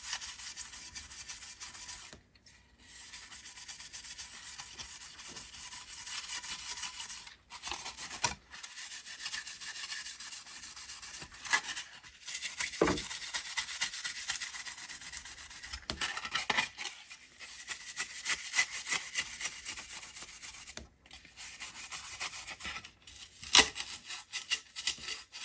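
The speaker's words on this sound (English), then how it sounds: "Now we are scuffing." Scuffing the outside of a Lexan RC car body by hand, producing repeated close rasping rub strokes in uneven bursts, broken by short pauses and a few sharp knocks.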